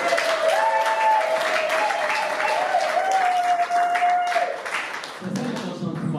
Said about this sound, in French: Acclamons un peu.